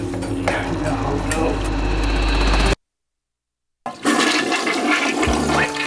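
A toilet flushes in a loud, continuous rush of water with a low rumble, cuts off into a second of silence, then the swirling gurgle of the flush resumes and drains on.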